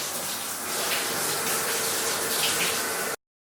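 Muddy water poured out of an elephant's trunk in a steady loud gush lasting about three seconds before cutting off abruptly.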